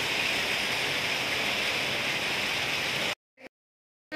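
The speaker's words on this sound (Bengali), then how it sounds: "আবার বৃষ্টি স্টার্ট হয়েছে।" Steady rain pours down in Vellore, a dense even hiss that holds loud and unbroken for about three seconds, then cuts to silence broken by one brief faint sound.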